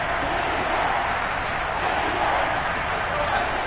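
Football stadium crowd roaring ahead of a big third down in a Tampa Bay game, a dense, steady wall of cheering and shouting that holds at full volume throughout with no gaps.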